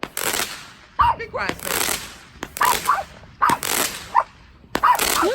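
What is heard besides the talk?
fireworks going off in rapid fire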